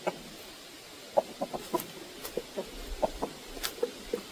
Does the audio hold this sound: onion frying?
no